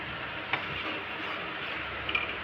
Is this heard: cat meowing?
no